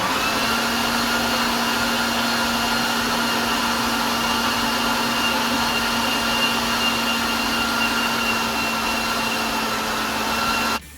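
A steady electric meat grinder motor whine with a constant hum while grinding meat into coarse mince, loud and close with no speech, cutting off abruptly at the end.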